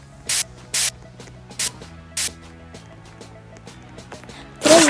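A hairspray toy in the Roblox game Adopt Me, firing four short, sharp spray hisses in an uneven rhythm, then a longer burst at the end, loud over a faint game-music bed.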